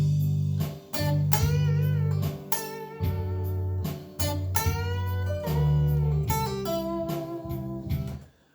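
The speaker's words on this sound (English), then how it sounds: "play along with the backtrack. So we're going to do something that sounds like this" Guitar playing over a backing track. Full, steady chords ring over a deep bass line and drums, with bright melodic bends and slides on top and short breaks between phrases. The playing is loud and continuous, with no voices.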